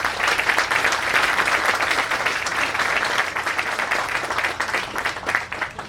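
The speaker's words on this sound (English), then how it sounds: "Let's give them a round of applause." An audience applauds at a 2011 ceremony in St. Louis welcoming a China Cargo Boeing 777 freight flight. Dense, steady clapping fills the full six seconds at an even loudness, with no voices above it.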